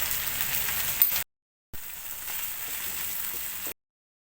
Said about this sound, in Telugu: 1 స్పూన్ అల్లం వెల్లుల్లి యాడ్ చేస్తున్నాను.